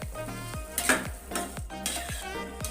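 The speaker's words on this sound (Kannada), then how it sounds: "ಸ್ವಲ್ಪ ಸಣ್ಣ ಉರಿಯಲ್ಲಿ ತಿರುಗಿಸ್ತಾ ಇರಬೇಕು, ಚೆನ್ನಾಗಿ ಅದು ಎಲ್ಲ ಬೆಲ್ಲ ಕರಗಬೇಕು" Spoon scraping a pan as jaggery melts over a low flame for pickle, rhythmic stirring strokes roughly every half second over a soft sizzle, close and moderately loud.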